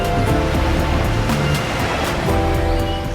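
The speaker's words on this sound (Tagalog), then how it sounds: "Ang musika ng mga hampas ng alon." Continuous roar of ocean surf breaking along a long white sandbar beach on Candaraman Island, Balabac, Palawan, loud and close with steady washing noise and faint engine-like hum beneath.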